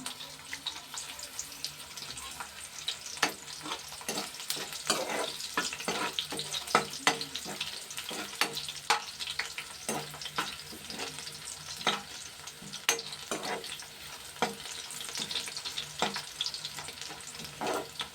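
Green chillies fry in hot oil with a steady sizzle, punctuated by repeated sharp scrapes and clatters of stirring throughout, close and fairly loud.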